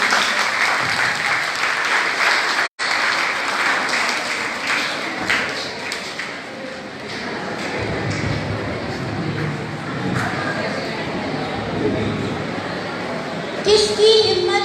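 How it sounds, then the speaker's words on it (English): Applause from a college audience at a Defence Day celebration, loud continuous clapping with crowd noise and children's voices mixed in, one brief dropout, then a faint announcer's voice near the end. "give her a round of applause."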